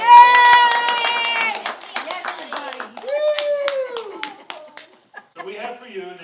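Audience applause at a Friday night Shabbat service: a burst of hand claps mixed with cheering and children's voices, loud at first and then thinning amid chatter and whistle-like tones.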